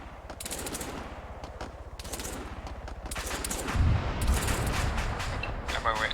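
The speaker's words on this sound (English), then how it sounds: "Put some tracer fire on that." Sustained automatic tracer fire in Arma 3, long rapid bursts of machine-gun shots with heavier booms midway, loud and close throughout, with someone talking intermittently underneath.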